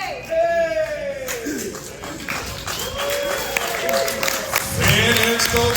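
A Fan Expo Chicago 2024 panel audience cheers and claps for Gina Carano, a steady roar of crowd noise beneath a loud voice shouting and tonal sounds throughout.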